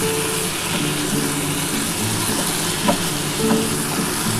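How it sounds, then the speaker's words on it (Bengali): Taro, potato and eggplant curry with hilsa fish head sizzles and sputters steadily in a pan while being stirred, with a couple of scraping clinks near the end; close and fairly loud, no talk. "দেখো আমার খুব ভালোভাবে কষানো কমপ্লিট হয়ে গেছে।"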